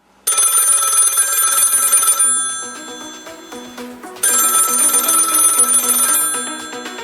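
An electronic phone ringtone plays loudly in two bursts, a bright repeating trill that fades out after each burst.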